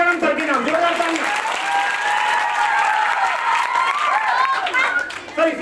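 An audience gives loud applause and some cheering while a person continues speaking or chanting over it, the clapping forming a dense, lively backdrop throughout.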